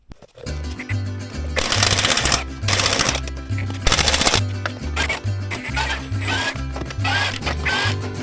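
Milwaukee impact wrench rattling off the wheel nuts of a Peterbilt truck hauler, with several loud hammering bursts of rapid impacts over continuous background noise and no talking.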